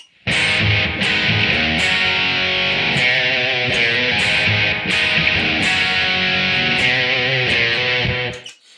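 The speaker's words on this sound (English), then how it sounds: "I also have my delay going on in there" Distorted electric guitar plays the chorus through a delay effect, sustained chords with sharp repeated attacks smeared by echoes, loud and continuous before fading out at the end.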